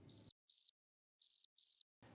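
A single cricket in a debate audience chirps in four short, evenly spaced bursts, loud and isolated against near silence, with a faint low murmur at the start and end.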